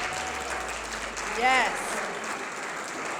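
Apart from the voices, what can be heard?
audience applause for role players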